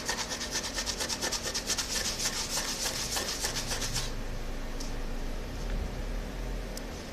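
Steady rhythmic scrubbing of a plastic part being cleaned before plastic welding, a close, even rasping rub for about four seconds that then softens into quieter intermittent rubbing.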